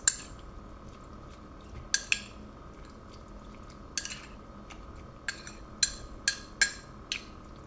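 A spoon clinks against a bowl while shrimp kinilaw with red onion is stirred, with scattered sharp taps and clatters over a wet, mixing background, close and fairly loud.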